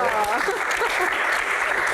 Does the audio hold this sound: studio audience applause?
yes